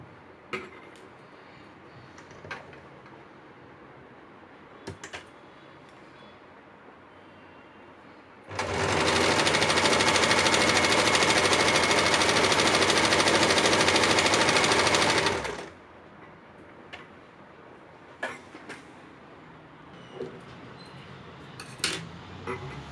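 A sewing machine stitches folded piping in one continuous fast whirring burst of about seven seconds, loud and close, with quiet handling clicks and rustles before and after.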